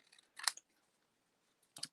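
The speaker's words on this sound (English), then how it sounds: "I basically just use my scissors and cut around the greeting" Scissors cutting around a printed paper greeting from a Paper Pumpkin craft kit, two short crisp snips close up with quiet between them.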